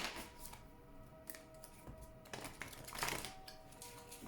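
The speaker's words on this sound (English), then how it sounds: "I shuffle the cards" Oracle cards are shuffled by hand in a series of soft, quick riffling and flicking bursts, close and fairly quiet, with no talking.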